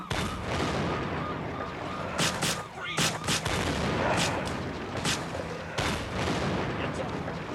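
Vehicles blowing up in the game Vegas Crime Simulator, a dense run of booms and sharp gunfire-like blasts over continuous loud game noise, with a voice talking partly underneath.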